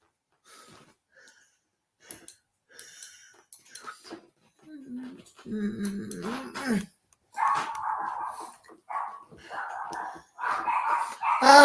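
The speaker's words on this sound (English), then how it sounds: "Why wouldn't they start barking the moment I go live?" Dogs barking indoors in short, sharp bursts that start faint and sparse, then build into louder, more frequent barks mixed with a person's voice, ending in a busy stretch of barking.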